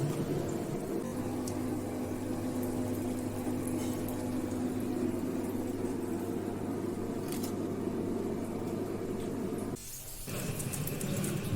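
Battered chicken popcorn, dipped in flour batter, frying in hot oil at home: a steady, dense bubbling hiss with a low hum running underneath, briefly dipping near the end before resuming.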